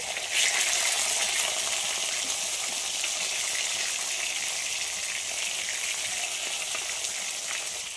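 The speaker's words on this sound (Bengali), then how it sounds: "এই সাইডটাও খুব ভালো করে ভেজে নেব।" A whole fish sizzles steadily in hot oil in a pan after being flipped, giving a continuous bright, hissing fry that holds at an even level throughout with no talking.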